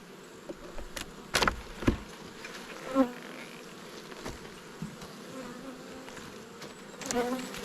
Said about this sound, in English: Plenty of bees on the excluder.